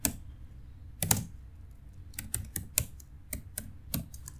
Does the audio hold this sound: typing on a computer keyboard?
yes